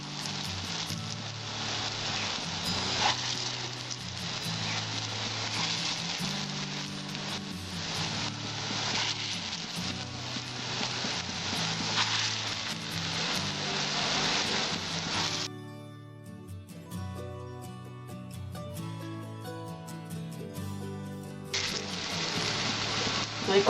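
Lentil fritters of motor dal frying in hot oil give a loud, dense, continuous sizzle close by that briefly thins out partway through before resuming at full strength, with no voices.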